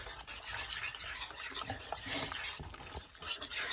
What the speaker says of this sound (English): I'm gonna also just give it a whisk